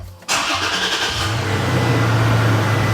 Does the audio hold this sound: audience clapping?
no